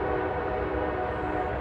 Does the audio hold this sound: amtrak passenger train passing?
yes